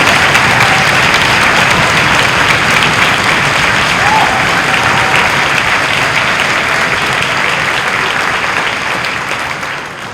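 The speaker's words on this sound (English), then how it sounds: "could we give a round of applause and a thank you" Loud, sustained applause from a concert audience at a string music event, dense and steady throughout before gradually easing off at the end.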